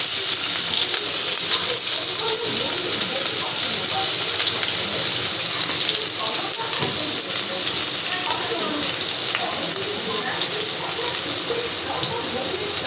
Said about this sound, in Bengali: তেলটা গরম হয়ে গেলে আমি এর মধ্যে পরিমাণ মতো পেঁয়াজ দিয়ে দেব